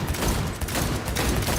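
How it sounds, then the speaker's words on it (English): A gun fires in the video game Cyberpunk as a loud, dense run of close gunshots, the shots blurring into one another with barely a pause. "this gun is shooting super slow"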